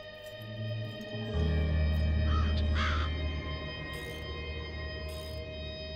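A bird cawing near its nest in the video game Black Mirror II, a few harsh distorted caws in the middle over a low droning ambient background.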